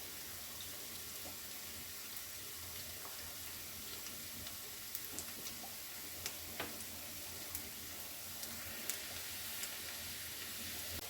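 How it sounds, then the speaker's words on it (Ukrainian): Onion and mushrooms frying in a pan, a steady close hiss of sizzling with scattered small pops and crackles throughout, no voices over it. "Цибулька вже присмажилась і майже пристає до пательні"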